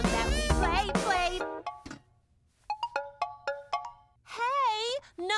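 A phone ringtone sounds in a Dr. Panda children's cartoon as a short run of bright, evenly spaced melodic tones, set between bursts of cheerful singing voices.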